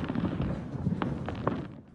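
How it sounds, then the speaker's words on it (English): Fireworks pop and crackle at night in a quick, irregular scatter of sharp bursts at moderate distance, with no talking, before the sound drops away near the end. "Popping and crackling fireworks are getting ready to fill up the night sky"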